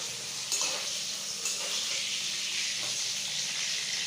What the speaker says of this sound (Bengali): এখানে এবার পটলগুলো ভাজা করছি।